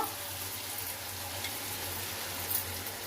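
Capsicum sizzling steadily in a hot pan just after going in, a soft continuous frying hiss with faint crackle throughout and no voice.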